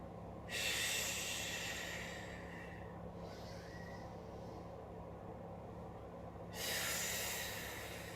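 Two long, slow breaths during a mat Pilates session, with a loud airy rush, separated by a quiet pause, close to the listener with faint background hum.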